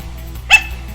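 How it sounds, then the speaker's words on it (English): A small pug-faced dog gives a single short bark, clear and fairly close, over a low steady background hum. "I wanted to look at the dog barking."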